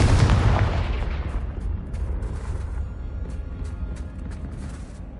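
A heavy Confringo spell explosion in Hogwarts Legacy booms loudly at the start, then a long rumbling decay with faint crackling debris trailing off.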